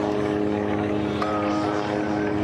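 Antonov An-2 propeller biplane flying at the Paris Air Show at Le Bourget, a steady loud droning radial engine and propeller roar held throughout, with a voice faintly under it.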